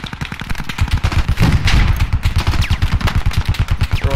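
Automatic gunfire in a first-person shooter video game: rapid, evenly spaced shots in a sustained burst running through nearly the whole stretch, loud and close, with no talk over it.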